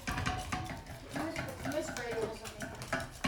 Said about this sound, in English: whisk the eggs in